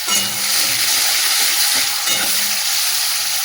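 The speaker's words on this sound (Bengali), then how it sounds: "এর মধ্যে যে পেঁয়াজ কেটে রেখেছিলাম ওটাই দিয়ে দিলাম" Chopped onions sizzle steadily in hot oil already seasoned with bay leaf and whole cumin, a dense continuous frying hiss with occasional stirring scrapes, loud and close throughout.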